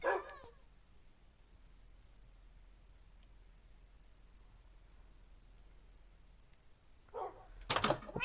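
Dog barking in Minecraft PS4 Edition, a short bark at the start, then near silence, then a few more sharp barks and yips toward the end.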